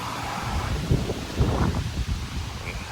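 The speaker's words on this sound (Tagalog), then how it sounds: "Lakas pa rin ang hangin, no?" Gusty wind buffets the microphone at a campsite in rough, uneven bursts, a rumbling, blustery rush with no voices.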